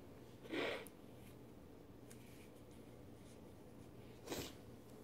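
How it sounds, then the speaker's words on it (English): Two short, breathy nasal blasts a few seconds apart, like someone blowing their nose close by, against a low steady background hum. "That I'm blowing my nose because stuff is actually coming out."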